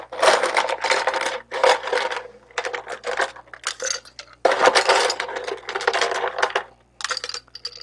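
A scoop digs repeatedly into crushed ice and drops it into a Krakatoa tiki mug, bursts of crunchy, rattling ice clatter in quick bursts with short pauses, close and loud.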